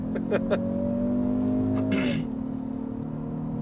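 A Kia Stinger 2.0 Turbo on winter tyres accelerating at full throttle, its steady rising engine drone held loud and close before dropping sharply at a gear change, then settling lower.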